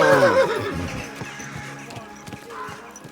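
A horse whinnies loudly in the Kingdom Come: Deliverance 2 video game, its neigh fading quickly into the steady clip-clop of hooves on hard ground.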